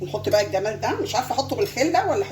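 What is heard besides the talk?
No everyday noise stands out behind the speech.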